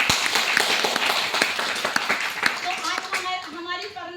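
An audience at a gathering claps briefly, a crisp burst of hands that fades out as a voice begins speaking over the tail end.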